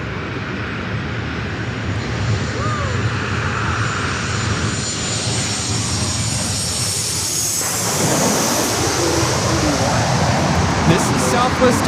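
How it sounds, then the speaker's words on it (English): Southwest Airlines Boeing 737-700 airliner coming in to land, a steady broadband jet roar that swells louder in the last seconds as it nears, with faint talk underneath. "Southwest Airlines 3695 coming in from Chicago Midway on the 737-700"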